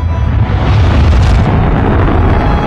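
A supernova explosion sound effect in a space documentary: a loud, sustained low rumbling boom with a dense roar that stays strong and even throughout, no voices.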